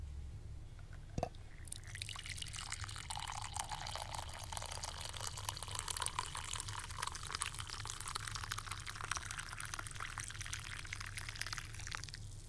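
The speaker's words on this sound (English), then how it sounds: "Can I get you some coffee? I had a dispenser installed here a while ago." Coffee pours from a dispenser in a quiet room, a steady liquid stream running almost continuously after a brief click, moderately close and alone with no talk.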